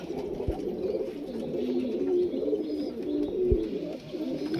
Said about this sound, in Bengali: ছোটদার বাড়ির এক জোড়া কাসুরি পায়রা শখ করো